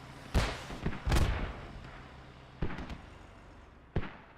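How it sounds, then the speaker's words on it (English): Mortar fire in a competitive video game match, several booming launch thumps arriving in an irregular cluster at moderate distance, a few close together and then one more after a pause. "Sounds like a lot of mortars getting shot off."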